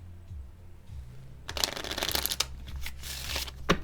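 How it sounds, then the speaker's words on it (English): A deck of playing cards riffled and shuffled close by during a tarot-style card reading, with quiet handling at first and then a dense, crackling burst of card flutter and bridging snaps. "We're gonna have a nice clean shuffle."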